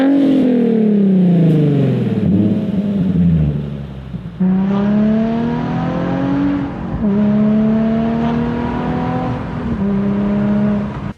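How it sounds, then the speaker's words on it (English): V6 car engine revving up and down, loud and close, with sweeping rises and falls in pitch and a brief drop before climbing again, no talk. "So let's listen to a V6 real quick."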